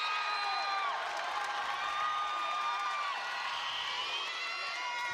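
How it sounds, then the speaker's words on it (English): A large indoor crowd at a high school volleyball state final, with the student section, keeps up a steady roar of cheering and shouting, loud and unbroken throughout. "They definitely brought the crowd, and they're in it right now."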